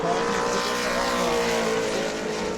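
The number 35 Jack Pierce Motorsports modified race car runs a qualifying lap at New Smyrna, its engine a loud, continuous roar held at high revs throughout with no talk over it.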